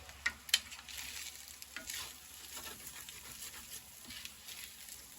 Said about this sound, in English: we're just gonna mix this around and try to crisp it up a little bit